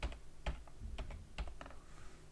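Keys tapped on a computer keyboard in short uneven bursts, soft close clicks with brief pauses, quiet and alone without speech.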